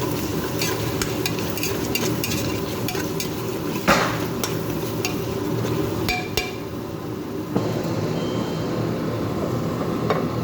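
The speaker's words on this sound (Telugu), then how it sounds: "పసుపు సాల్ట్ వేసి కలుపుతాను." Turmeric and salt stirred into a curry with tomato in a pan, repeated scraping and clinking of a spoon against metal over a low continuous sizzle, close and steady with no talking.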